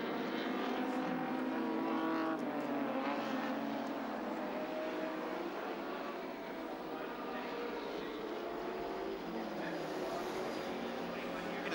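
A Nissan touring car driven by Glenn Seaton races past during the 1986 ATCC round at Sandown, its engine a dense sustained roar at a distance that swells and slowly fades.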